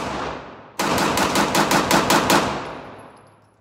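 Pistol shots at an outdoor shooting range, probably from a CZ handgun, ring out in a rapid string of about seven sharp, loud, close reports, their echoes fading into open air.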